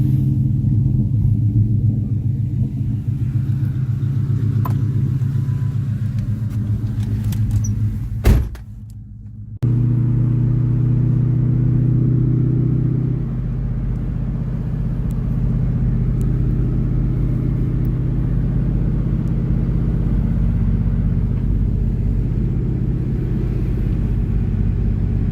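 A red Ford Mustang's engine rumbles steadily as it drives along a road, with a brief hush near the middle before the droning motor resumes.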